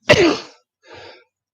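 A single sharp sneeze bursts out, followed after a short pause by a softer breathy exhale, alone in quiet.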